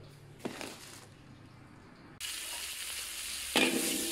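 Fried rice (nasi goreng kampung) sizzling and frying in a wok, a steady hiss punctuated by a few louder stir-scrapes, with the sizzle growing stronger partway through.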